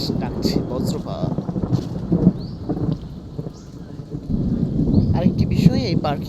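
Loud thunder rolls across the sky above a park near Barishal, Bangladesh, amid steady rain, the rumble swelling and easing in waves throughout.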